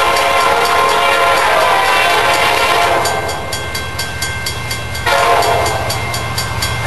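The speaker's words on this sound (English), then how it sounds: "here comes another train" A freight train led by an SD60 locomotive passes close by the Summit crossing, loud rumbling wheels and clattering railcars fill the clip, with a sustained horn sounding through it.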